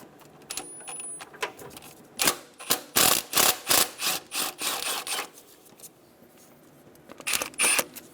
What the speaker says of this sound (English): Using a 10mm socket, we're going to remove the two 10mm bolts off of the high and low lines going to the AC